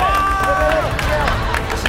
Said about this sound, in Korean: 마지막 결승 박수 주세요!